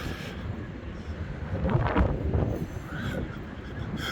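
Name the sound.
wind on Blackpool promenade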